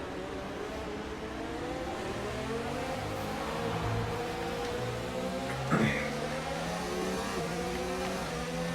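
Race cars accelerating at a restart in a Formula-style racing video game: several engines whine and rise in pitch together at a steady moderate level, with one car's revs jumping briefly, and a voice speaks over them.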